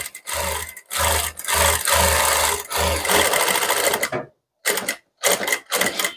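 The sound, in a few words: sewing machine stitching fabric along a half-inch line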